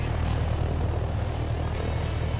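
A helicopter in the flight video game Take On Helicopters flies with a constant, loud rotor and engine roar that fills the whole stretch without a break.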